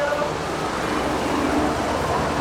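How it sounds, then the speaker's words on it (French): A waterfall spills into a swimming pool at a Gold Coast, Australia accommodation, giving a steady, even broadband rush of falling water that holds constant throughout with no clear voices. "Très stylé avec la cascade."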